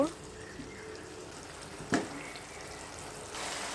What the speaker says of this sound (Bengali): এই তো বলক কিন্তু চলে আসছে